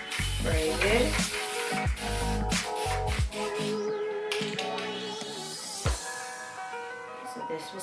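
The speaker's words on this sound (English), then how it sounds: "what I'm going to do is spray this." Adhesive spray hisses in several short bursts against a busy background, used to glue cushioning onto a DIY Dollar Tree vanity chair. Speech is present in parts of the clip.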